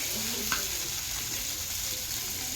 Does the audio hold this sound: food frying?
yes